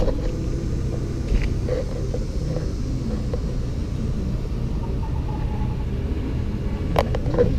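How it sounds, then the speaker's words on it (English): A Lamborghini lapping a race track during a driving event, its engine a steady, continuous rumble at moderate distance with no talk over it. "Here comes the Lambo."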